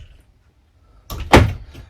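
An RV door fitted with a new low-profile handle is opened, giving a single close, sharp clunk of the latch and door after a quiet moment.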